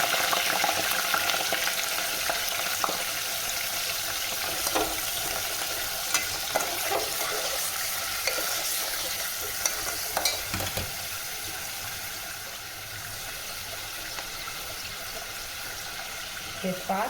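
Chicken frying and being stirred in a pan while cooking korma, giving a steady close sizzle with intermittent scraping stir sounds throughout.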